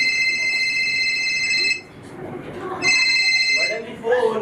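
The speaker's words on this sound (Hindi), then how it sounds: "मगर फोन बड़ी देर से बज रहा था" A telephone rings in electronic bursts, one long ring and then a second after a short pause, in a live Hindi comedy stage play, with voices talking underneath.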